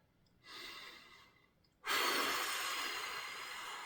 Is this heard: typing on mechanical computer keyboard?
no